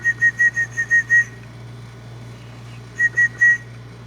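A person whistles to imitate a baby emu's call: a quick run of about seven short, high, piping chirps, then a pause and three more, close and clear over a low steady hum.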